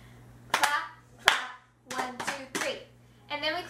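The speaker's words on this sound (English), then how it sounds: "So we go clap, clap, and then we slap our legs three times." Hands clapping and slapping legs in a cup song rhythm, sharp percussive claps and slaps in short groups with pauses between, close and clear, with a faint steady hum underneath.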